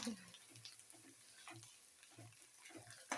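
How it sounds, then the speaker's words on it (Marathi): Corn chivda frying in hot oil, a faint steady sizzle with soft rhythmic stirring scrapes and taps repeating throughout, quiet and close. "झाले तेल गरम छान टाकून घेते भरपूर वा कसा आवाज येत आहे"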